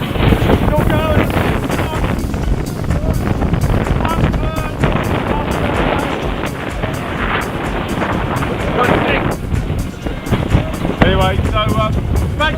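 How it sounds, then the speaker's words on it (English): Strong wind batters a sailboat crossing the Aegean Sea with its mainsail down and genoa reefed, a loud, continuous buffeting roar across the microphone, with a voice faintly under it at times. "the wind is so strong, we've had to take down the mainsail"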